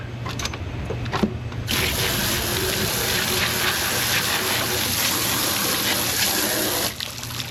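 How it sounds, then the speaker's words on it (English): Running water rinses a barracuda carcass, a loud steady gush that holds constant for several seconds after a short splashing start, close up. "Rinse it off."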